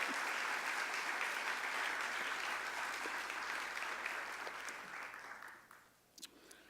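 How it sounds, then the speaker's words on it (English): Sustained applause from a crowd at a college convocation fills the room, dense and even at first, then fading away to a few scattered claps and a soft knock. "Give yourselves a round of applause."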